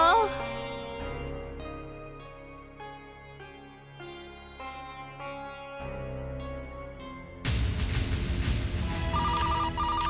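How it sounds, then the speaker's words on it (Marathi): A telephone rings with a repeating electronic ringtone melody for several seconds, then a louder, noisier burst of sound takes over near the end. "अरे देवा, कोणाचा फोन आहे हा?"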